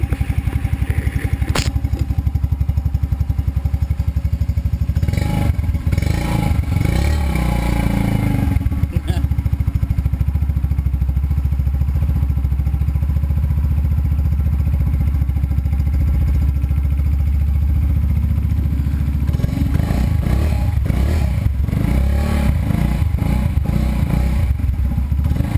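A Super Scoot motorcycle fitted with a Flowmaster exhaust runs steadily close by, its low engine drone continuous throughout, with a few clattering thumps partway through.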